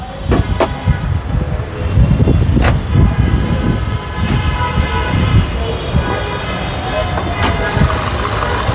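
A Honda Vezel's 1500cc engine runs with a steady low rumble throughout, while a few sharp clicks and knocks sound over it and people talk nearby.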